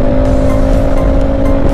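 A loud, steady engine drone from a Rusi RFI175 motorcycle with 18,000 km, a sustained hum running close and smooth without pauses.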